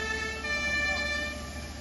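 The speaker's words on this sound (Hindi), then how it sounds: "पूरे शहर में इस वक्त सिर्फ सायरन की आवाज सुनाई दे रही है।" Emergency vehicle sirens sound across Kyiv during an attack, a steady wailing tone held over a low city rumble, distant and continuous for a short stretch with no voices.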